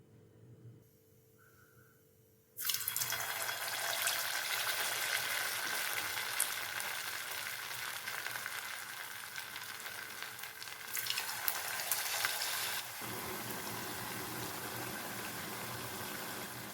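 Rice bondas frying in hot oil over a medium flame, a loud steady sizzle that jumps in after a quiet start and carries on without talk.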